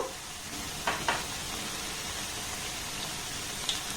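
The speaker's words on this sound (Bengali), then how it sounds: "এইভাবে উল্টে পাল্টে একটু হালকা লাল লাল করে ভেজে নেব" Sweets made without flour or semolina frying together in a large frying pan: a soft, even sizzle and hiss with a few faint stirring clicks, heard alone.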